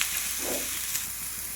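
A big onion dropping into a hot pan, giving a steady, close, bright sizzle with a short swell of frying as it lands, then continued hissing.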